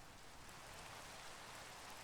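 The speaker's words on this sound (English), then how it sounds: "Wish the rain would stop so we'd have a better view of it" Steady rain falls in the video game Minecraft, a dense even hiss that holds without pause for the whole stretch, soft and evenly spread with no other sounds.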